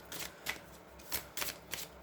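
Oracle cards shuffled by hand during a tarot-style reading, heard as four or five quick, crisp riffling bursts separated by short pauses, close and fairly quiet with no talk.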